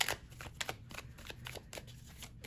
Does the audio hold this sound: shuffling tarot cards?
yes